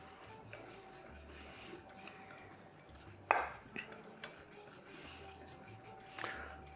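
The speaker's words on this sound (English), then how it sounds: "I will start stirring that in with the bread whisk." Bread dough for brown mini loaves with molasses and coffee is stirred with a dough whisk in a bowl, giving quiet scraping and a few sharper clinks against the bowl amid a faint background hum.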